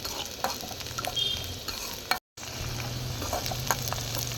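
Spice tempering (oggarane) sizzling in hot oil for a brinjal and moong dal rice dish, a steady close crackle with scattered pops, briefly cut to silence midway before resuming with stirring scrapes.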